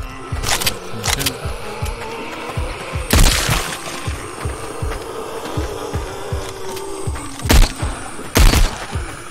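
Gunfire in the VR shooter Arizona Sunshine: several sharp, loud shots spaced irregularly, with a couple of closely paired bursts near the end, over a busy game background of ambient noise.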